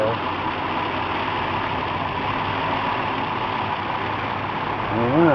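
A car engine with a bad fuel pump idles steadily and loudly, a continuous low rumble held throughout, with a voice coming in near the end.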